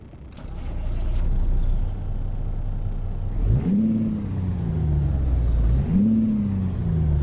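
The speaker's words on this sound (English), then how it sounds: "Sounds like it's pretty souped up to me." A Kenworth W900 truck engine in American Truck Simulator idles at a low rumble, then revs up twice in long rising and falling sweeps, loud and close with no talk.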